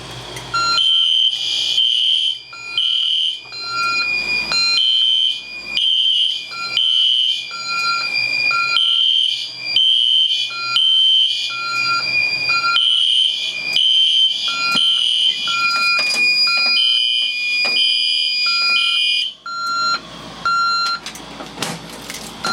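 A Notifier AFP-100 fire alarm system sounds loudly with a repeating high electronic tone pattern, pulsing in steady bursts for about twenty seconds before stopping abruptly near the end.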